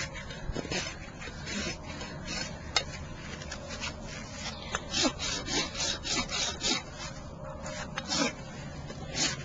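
A farrier's rasp files a horse hoof, scraping in repeated rough strokes at close range with uneven rhythm, loud and alone.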